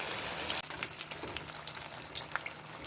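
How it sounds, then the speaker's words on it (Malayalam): Veg spring rolls deep-frying in hot oil over a medium flame, a steady close sizzling hiss with scattered crackles and pops throughout, no voices. "എണ്ണ നല്ലതുപോലെ കാഞ്ഞിട്ട് മീഡിയം ഫ്ലെയിമിൽ വച്ചിട്ട് വേണം നമുക്ക് വറുത്ത് കോരി എടുക്കാനായിട്ട്"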